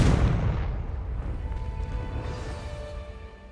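Confringo blasting spell in Hogwarts Legacy, a single heavy explosive boom up close that rolls off into a fading rumbling tail.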